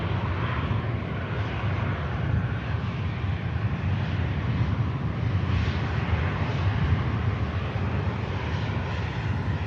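Virgin Atlantic Airbus A330-300, first registered in 2011, at Manchester Airport, producing a loud, steady low jet-engine roar that holds evenly throughout with no voices.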